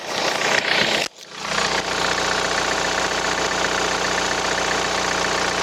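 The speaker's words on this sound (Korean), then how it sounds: "나가서 엔진 소리 들어보시죠" A Hyundai Santa Fe TM engine revs briefly, cuts out for a moment, then settles into a steady, close idle hum with a faint rhythmic knock.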